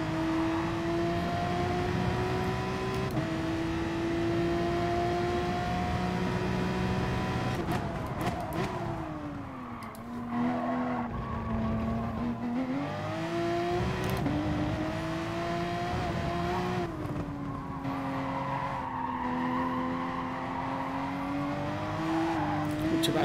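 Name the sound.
race car engine revving, from video game Gran Turismo Sport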